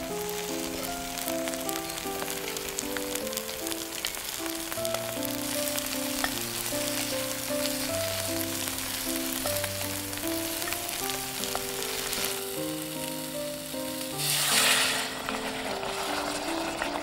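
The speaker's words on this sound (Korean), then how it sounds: "솥에 들기름을 두르고 밑간을 해둔 토란을 볶아줍니다." Seasoned taro fries in perilla oil in a pot, a loud continuous sizzling hiss with light stirring, a brief louder burst of spattering near the end, and a steady musical backing underneath.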